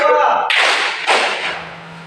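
A classroom claps in quick rhythm, with a couple of sharp bursts of hand claps that fade out, following a short spoken lead-in at the start.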